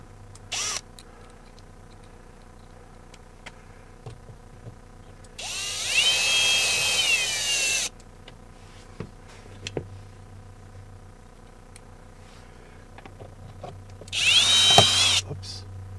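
A cordless power drill drives bolts into a vehicle trim panel in two loud, close bursts of whirring, each a couple of seconds long, separated by quiet clicks and handling noises.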